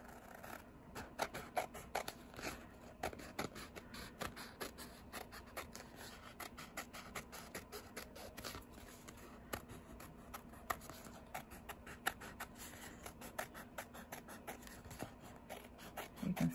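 Masking tape shaped into a shoe sole is cut out with scissors, a steady run of soft snipping and rustling tape close by, no voices.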